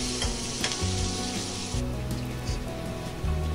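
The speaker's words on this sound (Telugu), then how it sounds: "ఉల్లిపాయ కూడా గోల్డ్ కలర్ వచ్చే వరకు వేయించుకోవాలి" Onion and curry leaves sizzle steadily in hot oil, a dense continuous frying hiss with periodic low scraping thumps from stirring, close and loud with no talk.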